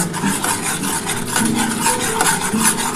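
Spice paste for an egg curry fried and stirred in a pan, a continuous close sizzle with rhythmic scraping and rubbing of a spatula against the pan.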